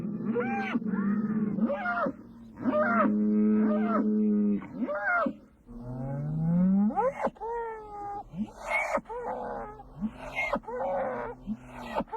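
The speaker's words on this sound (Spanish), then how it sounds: "El mugido fuerte y amenazador se llama bramido o piteo." A bull on a Spanish dehesa lets out loud, drawn-out bellows, a deep menacing moo that rises and wavers, repeated several times up close with short gaps.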